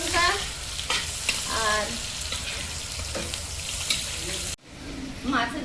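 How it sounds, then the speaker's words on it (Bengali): Onion and dried red chilli fry in hot oil with a loud, close sizzle and repeated stirring scrapes, briefly cut off near the end before resuming; a voice speaks a word. "তেলে পেঁয়াজ, শুকনো লঙ্কা"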